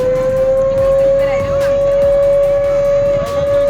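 A loud siren on a boat jetty sounds a single steady, sustained tone throughout, with faint background bustle beneath it.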